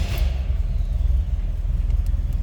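A 1977 MG MGB convertible engine catches and settles into a low, steady idle rumble with a pulsing rhythm, heard close and alone without voices.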